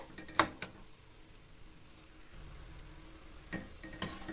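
Mutton kola urundai meatballs fry quietly in oil over a medium flame, a soft low sizzle punctuated by a few light clinks and scrapes of a utensil turning them in the pan.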